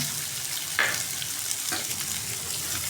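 Garlic sizzles steadily in a hot pan, a continuous close frying hiss with a couple of brief stirring scrapes, no talking.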